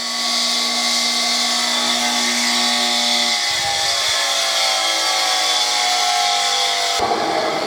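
A 1960s Craftsman bench grinder running steadily after years unused, a loud sustained motor whine with layered tonal hum that shifts pitch partway through and changes again near the end, alone with no voices.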